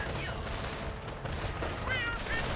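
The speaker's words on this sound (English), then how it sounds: "Strafing run there." Gunfire from an aircraft strafing run in the World War II strategy game Company of Heroes, a dense, continuous burst of rapid shots lasting a few seconds, loud and steady.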